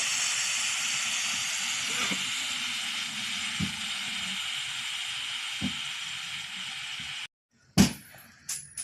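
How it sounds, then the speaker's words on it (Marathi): Steam hissing out of a pressure cooker of rice in a home kitchen, a loud continuous broadband hiss that runs steadily for about seven seconds, then cuts off abruptly, followed by a few faint clicks and knocks. "आपण याची वाफ काढून घेऊयात"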